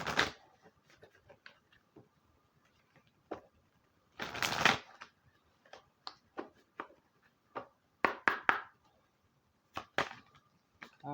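Oracle cards are shuffled by hand in quick, close riffles and soft flicks, with one longer louder burst and scattered short taps, quiet and without talk.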